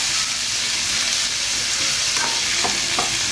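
Food fries in a pan with a little sugar, a loud, steady sizzle and hiss throughout, with a few light stirring knocks near the end; no talking.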